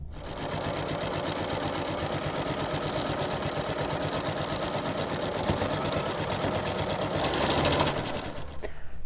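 A sewing machine stitching around the edge of fabric scraps runs continuously at a steady, fast whir for the whole stretch, close and loud, slowing slightly near the end.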